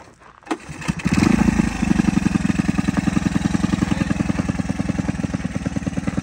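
A 1985 Honda ATC 110 three-wheeler cranks and catches, then settles into a steady, rapid single-cylinder putter, close and fairly loud, with no talking over it.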